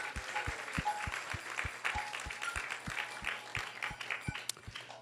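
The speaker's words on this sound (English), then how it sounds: "So let's please give a big round of applause to everyone." Audience applause at an ISKCON Sunday Feast program in Silicon Valley, steady dense clapping that holds for several seconds at moderate level, with a faint low hum underneath.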